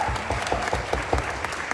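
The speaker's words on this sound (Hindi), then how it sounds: "जोरदार तालियां उन सब के लिए।" Loud applause from an audience at a career opportunity meeting in Raipur, a dense wash of clapping with rhythmic accented claps running steadily throughout, no voices over it.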